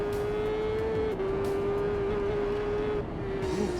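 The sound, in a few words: superbike engine in TT Isle of Man 3 video game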